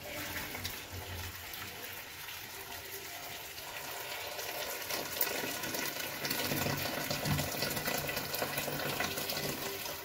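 Water poured into a cooking pot over onions in a home kitchen, a steady continuous pour with a gushing splash that holds at even strength throughout, close by with no talking.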